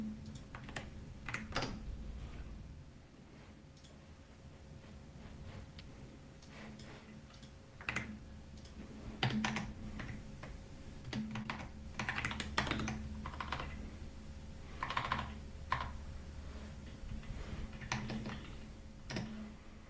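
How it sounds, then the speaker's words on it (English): Rapid clacky keystrokes on a computer keyboard, irregular bursts of typing with brief pauses, close and fairly quiet. "so you guys don't hear my clacky keyboard"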